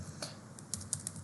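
Several quick keystrokes on a computer keyboard, light close clicks spaced unevenly over about a second while a search query is entered in data software, with no talk.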